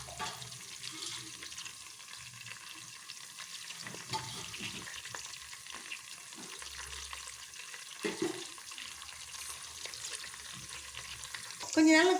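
Curry leaves fry in hot oil for a ven pongal tempering, giving a soft, steady sizzle and crackle with occasional stirring scrapes and a brief louder clatter at the end.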